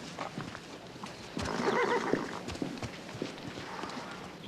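A horse whinnies loudly mid-clip over a steady clip-clop of hooves, with a busy outdoor background throughout, the neigh rising sharply and trailing off.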